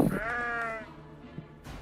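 A sheep from a zombie sheep film lets out one clear, loud, wavering bleat up close, followed by quieter background sound and a faint knock.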